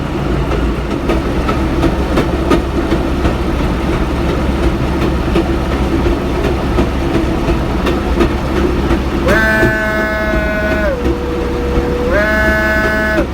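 The M-3 locomotive on the East Broad Top Railroad rumbles steadily, then its loud multi-tone horn blares twice near the end, a long blast followed by a shorter one.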